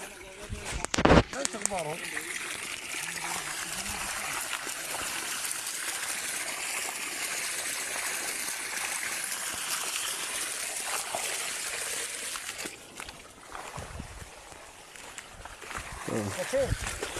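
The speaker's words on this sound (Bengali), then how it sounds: "পানি হইতেছে" Water gushes from a newly installed water pump motor at a work site in Saudi Arabia, a steady, fairly loud rushing flow that fills nearly the whole stretch, with faint voices underneath and a few knocks near the start.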